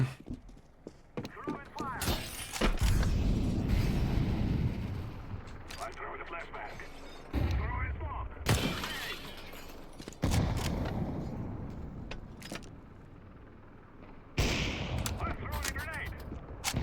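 Gunfire in a Counter-Strike match comes in bursts of sharp shots and heavy blasts over several seconds, separated by quieter gaps, while players chat throughout.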